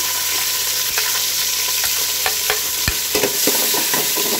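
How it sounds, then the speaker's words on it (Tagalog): Garlic and onion fry in hot oil in a pan, a loud close sizzle with scattered metallic scraping clicks from stirring. "Lalagay na natin yung kawali. Ayos na. Bago yun, mga kalapatids. Yan. Lagay na natin ang bawang."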